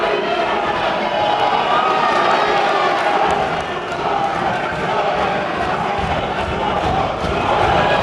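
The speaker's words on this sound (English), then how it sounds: "the crowd chanting his name" Boxing crowd at a GB Fight Series Southern Area super bantamweight bout chanting a fighter's name, a loud rhythmic roar of many voices filling the hall continuously with shouts and cheers.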